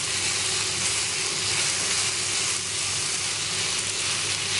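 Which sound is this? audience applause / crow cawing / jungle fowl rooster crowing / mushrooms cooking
mushrooms cooking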